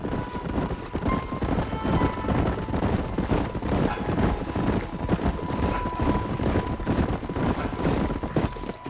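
Horses clip-clop steadily across the ground in the Western video game Red Dead Redemption, a dense, continuous patter of hooves heard up close alongside a steady background hum and occasional faint tones.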